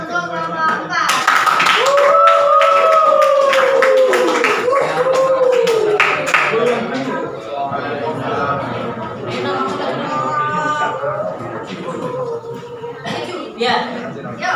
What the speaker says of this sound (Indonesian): kita beri aplaus untuk kelompok 4